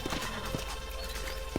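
Hoofbeats from horses in the Western video game Red Dead Redemption, a short run of soft, evenly spaced clops over a steady low game ambience.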